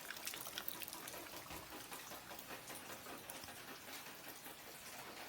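Rainwater runs through a street gutter in a faint, continuous rushing gurgle that holds steady for several seconds without other sounds.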